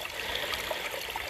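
Steady trickling water at a small stream serving as a trail water source beside a campground on the Appalachian Trail, a continuous close bubbling babble with no voices.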